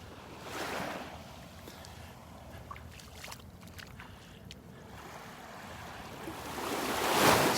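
Surf breaking along Vanderbilt Beach in North Naples, Florida, heard on a morning shoreline walk: a steady wash of waves with a louder swell rolling in near the start and another building close by at the end.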